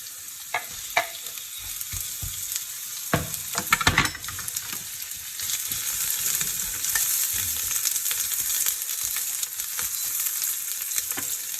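Onions sizzle steadily in hot oil in a pan, a continuous bright frying hiss with a few sharper crackles and spatters, close and fairly loud, with no talking.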